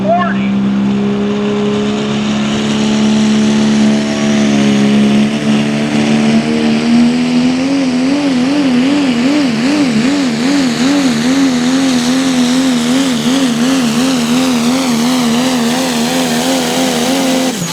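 A 1997 Ford Pro Stock diesel pickup roars through a truck pull at a tractor-pulling event, its engine holding a loud, sustained drone that climbs in pitch and wavers as it strains down the track, with an announcer talking over it.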